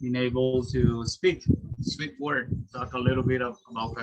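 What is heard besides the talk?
No everyday noise stands out behind the speech.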